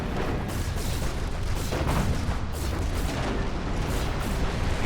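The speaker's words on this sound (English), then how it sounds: "There goes the Uber cannon." In the strategy game Planetary Annihilation, the Uber cannon fires in a dense, unbroken barrage of loud booming blasts that blur into a continuous roar.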